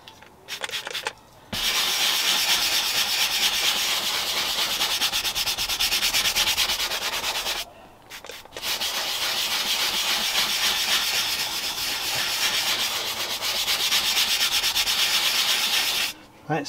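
A leather car headrest being rubbed and cleaned, close, steady brushing and scrubbing strokes running in long continuous stretches broken by a few short pauses.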